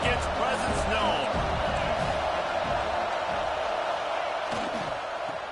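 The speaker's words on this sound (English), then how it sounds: "This crowd ready to make its presence known." Steady roar of a large college football stadium crowd at an NCAA game, loud and continuous throughout with swelling cheers and scattered shouts, a broadcast commentator's voice faintly mixed in.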